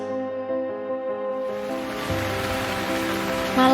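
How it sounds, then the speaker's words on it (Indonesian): Heavy nighttime rain sets in as a steady, dense wash that swells after the first second and a half and stays loud and continuous, with soft tonal music underneath at the start. "Malam ini hujan begitu lebat."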